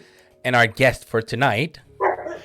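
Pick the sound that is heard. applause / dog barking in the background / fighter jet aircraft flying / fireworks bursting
dog barking in the background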